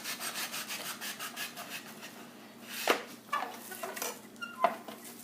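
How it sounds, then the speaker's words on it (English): A knife slices through a raw chicken breast held in a spring-loaded slicer, giving a few scraping, rubbing strokes followed by sharper clicks and taps as the blade passes through, close up with no talking. "You just take your knife and you cut through."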